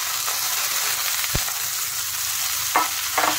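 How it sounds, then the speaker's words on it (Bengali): Boiled banana flower is stirred and fried with spices and lightly fried onion in a pan. It makes a steady close sizzle with a few scraping stirs, and no one speaks. "মোচাটা দিয়ে দেওয়ার পরে একটু নেড়ে চেড়ে ভালো করে মশলার সাথে মিশিয়ে দেবো আমি"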